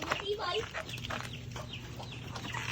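Chickens clucking in farm chicken coops, several birds calling close and continuously with overlapping clucks, mixed with background voices.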